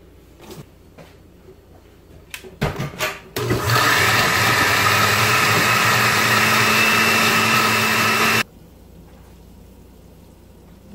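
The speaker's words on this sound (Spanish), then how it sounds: "Vamos a agregarle agua." Water pours steadily into a cooking pot for a beef chilate broth, a loud, continuous rushing splash lasting several seconds, preceded by a few clanks and then stopping abruptly.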